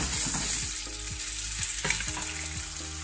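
Chicken pieces fry in a pan with a little oil, a steady close sizzle running throughout with occasional scraping and stirring clatter; no voices.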